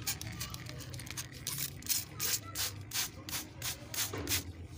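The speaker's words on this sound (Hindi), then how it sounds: "पत्तों को तो इसी तरह स्प्रे भी कर दें" Repeated short hissing bursts of a hand spray bottle misting water onto houseplant leaves, about nine quick pulses in a steady rhythm, close and fairly quiet with a faint low background hum.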